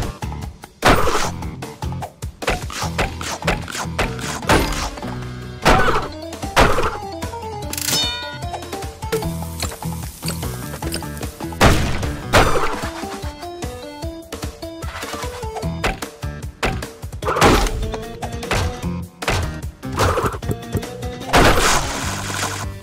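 Crates smashing in a Crash Bandicoot fan game, a rapid string of cartoony clangs, dings and crashes over music, each hit sharp and close.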